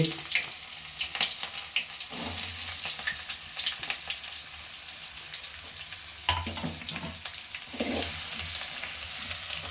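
Onions fry in a pan with cinnamon and two cardamom pods for a chicken curry, giving a steady, close sizzle with occasional stirring scrapes and soft clinks throughout.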